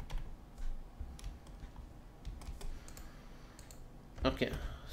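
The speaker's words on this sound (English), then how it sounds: "my keyboard is refusing to type correctly for some reason" Quiet, scattered clicks of typing on a computer keyboard during a coding session, irregular taps with a brief denser burst near the end, a voice speaking faintly underneath.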